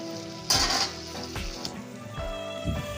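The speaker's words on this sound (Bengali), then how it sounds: "টমেটোটা খুব ভালো করে ভেজে নিতে হবে যাতে টমেটোর কাঁচা গন্ধ না থাকে" Chopped tomato with turmeric, added to fried ginger and garlic, frying in a pan and stirred with a spatula: a loud sizzle bursts up, then settles into steady frying with spatula scrapes and taps against the pan.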